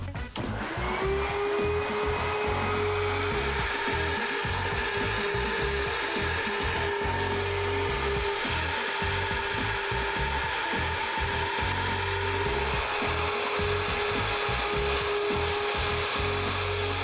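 Cylinder heads ground during a valve job on a 396 engine, a loud, sustained whining tool tone with steady rasping and chattering underneath, close and continuous throughout.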